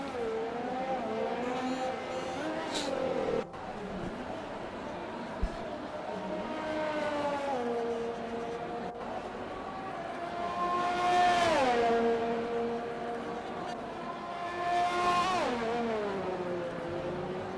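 Race car engines in an F1 racing video game at the Brazil circuit scream and rise through gears in repeated high-pitched sweeps, steady and loud throughout.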